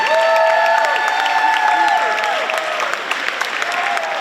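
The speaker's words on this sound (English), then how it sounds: "Give them another round of applause." A rally crowd, likely in a school gym, applauds a girls ice hockey team with steady loud clapping mixed with cheers and whoops, slowly easing off.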